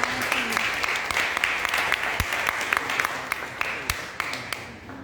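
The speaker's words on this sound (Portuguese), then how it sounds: "uma salva de palmas para a companheira Keila" Audience applause at a popular anti-speciesist vegan event, dense sustained clapping from a crowd filling the room for several seconds, loud and close, tapering slightly near the end.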